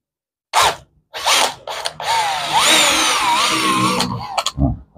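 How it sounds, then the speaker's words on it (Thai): A power drill bores a 5 mm hole for a switch on a Honda Dax125 motorcycle, giving several short bursts and then a longer whining run with a shifting pitch, close and loud. "พอเจาะ5มิลเสร็จก็เรียบร้อยนะครับ"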